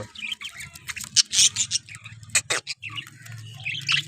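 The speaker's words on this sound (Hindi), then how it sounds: "आज तो चलो अपने प्यारे प्यारे तोते दिखावा" Pet parrots kept at home give rapid high chirps and squeaks in close, busy bursts, with a low background hum underneath.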